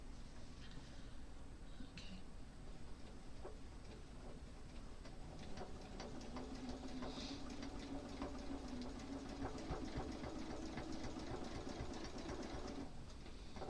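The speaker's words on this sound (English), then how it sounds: "So at this point, I'm just sewing off the edge" A sewing machine runs continuously and faintly while straight stitching in the ditch off the edge of a quilt, with a steady low hum and light ticking throughout.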